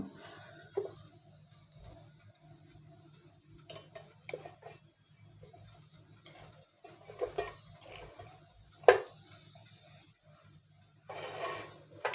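Spoon scraping and clinking against a plate while lifting hot, freshly steamed chicken momos, with a few soft, scattered scrapes and one sharper clink, close and quiet with no talking.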